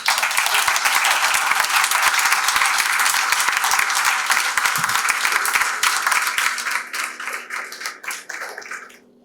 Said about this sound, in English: So can we get one last round of applause?